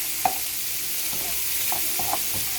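Onions sauté in a hot pan for breakfast burritos, giving a steady, even sizzle with a few light clicks of a utensil stirring, close and alone without talk.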